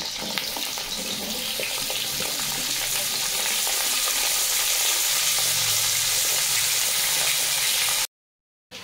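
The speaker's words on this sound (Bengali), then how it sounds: "তেল গরম হয়ে গেছে, আলু দিয়ে দেবো" Potatoes fry in hot mustard oil in a wok, giving a loud, continuous bubbling sizzle that cuts off abruptly near the end.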